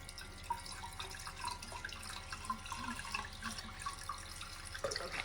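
Water running from a tap into a container holding flower bulbs, a faint continuous trickle and splash with small drips throughout, quiet and with no talking.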